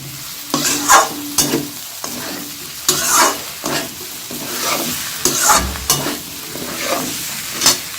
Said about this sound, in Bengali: এবার আমি একটু কষাতে থাকবো যেহেতু সবজিগুলো ভাজা আছে